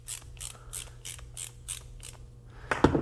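A screw being tightened on a solderless RCA cable connector, giving a steady run of about eight close, crisp ratcheting clicks evenly spaced, then a louder scrape and rattle at the end.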